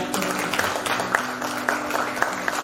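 A congregation claps at a Christmas church service in Panvel, with sharp claps landing roughly every half second over a low murmuring room background.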